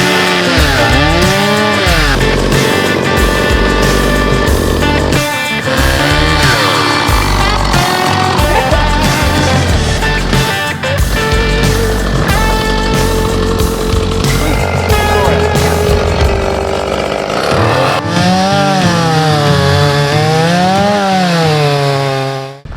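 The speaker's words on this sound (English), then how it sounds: "Keep your chainsaw out of your car, just pull it straight out of the box. Start cutting." A chainsaw roars loudly and continuously while cutting through fallen timber, its engine pitch rising and dipping as it bites into wood, with revving near the end.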